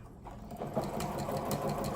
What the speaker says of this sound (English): I've popped it in my sewing machine with the presser foot right on the edge of the two pieces of fabric